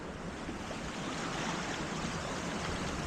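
Steady rushing water fills the scene, a dense continuous wash of a fast-flowing, high creek current with no voices.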